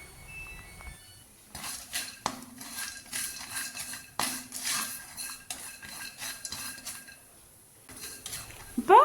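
Almonds and cashews roast in a pan while a utensil stirs them, making intermittent scraping and metallic clinks against the pan, close and fairly quiet, with short pauses between strokes.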